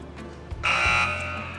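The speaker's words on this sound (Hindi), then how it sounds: "एक बार फिर से सैयद मोहम्मद अब्बास ने फर्स्ट बज़ प्रेस किया है।" A buzzer on an Islamic quiz show goes off once as a contestant presses to answer, a loud, sustained electronic tone that rings clearly for about a second before fading.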